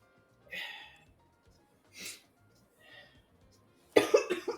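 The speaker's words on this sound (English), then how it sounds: "just gonna let the coughing get out." Coughing after something went down the wrong pipe: a few separate hacking bursts with pauses between them, ending in a louder, ragged fit of coughs, close and alone.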